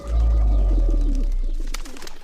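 Pigeons coo loud and close at a Hanuman temple in Pur, Rajasthan, a deep rolling call over a low rumbling background.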